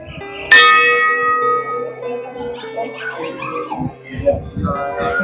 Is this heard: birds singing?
no